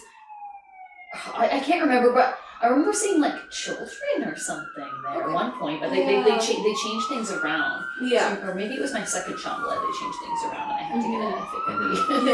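Emergency vehicle sirens wail outside, rising and falling in long sweeps that grow louder as they pass, heard beneath a continuous conversation between people.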